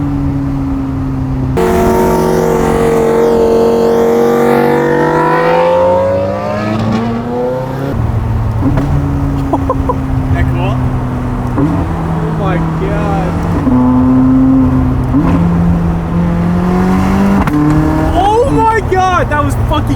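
A car engine revs and blips with stepped rises and falls in pitch on each downshift, loud and close inside the cabin, while people talk excitedly over it.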